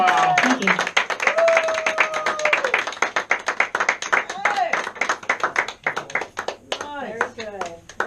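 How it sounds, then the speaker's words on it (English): A small studio concert audience claps in a fast, steady rhythm, many hands together at close range, with voices calling out and talking over the clapping. "Good clapping. Good clapping. Good clapping."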